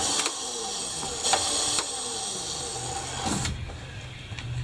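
The electric motor of an Indian eFTR Jr kids' ride-on motorcycle runs as a steady close whirring hum, with a few faint clicks over it and a slight drop in pitch near the end.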